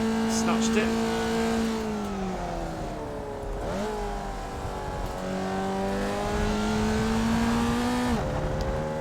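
Race car engine held under throttle through a lap, a loud continuous onboard drone that rises in pitch, dips briefly at shifts or lifts, then climbs again, with someone talking over it.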